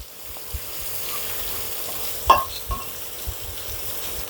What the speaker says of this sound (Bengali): এবার মশলাটা কষিয়ে নিচ্ছি ভালো করে